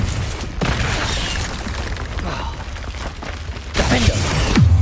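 Confringo fire spell from Hogwarts Legacy going off as a series of booming blasts with crackling, fiery bursts, loud and close, the last two impacts heaviest.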